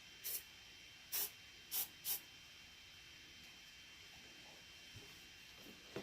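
Foot powder is sprayed from an aerosol can onto removed shoe insoles in four short, sharp hisses. Two bursts are quick and close together, and the rest is quiet room tone.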